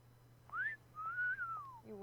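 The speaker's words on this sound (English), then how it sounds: "How does he feel about wolf whistling?" A wolf whistle in the video game Super Seducer: a short rising note, a pause, then a long falling note, clear and close over a low steady hum.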